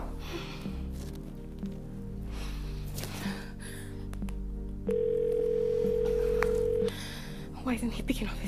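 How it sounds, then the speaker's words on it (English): An unanswered telephone call plays as a steady electronic ring tone lasting about two seconds, surrounded by quiet room sounds, rustling and brief speech-like noise. "Why isn't he picking up his phone?"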